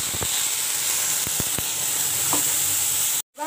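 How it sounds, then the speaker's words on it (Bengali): Spice paste sizzling and frying in hot oil in a pan, a steady close hiss with a few stirring clicks, then a brief drop to silence at the end. "তেলের মধ্যে পেস্ট করা মশলা"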